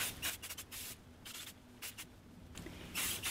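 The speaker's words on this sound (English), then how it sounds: "When you're happy, you give it a spray." Several short hissing bursts of aerosol spray, close by, spaced unevenly with brief pauses, the last burst longest.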